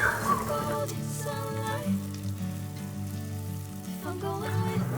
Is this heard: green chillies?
yes